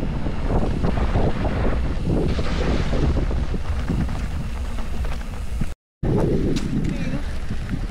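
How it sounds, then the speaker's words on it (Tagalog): Strong wind buffets the microphone in a steady, loud roar during a mountain bike ride, with voices talking over it and a brief dropout near the end. "Parang lahar yung hangin."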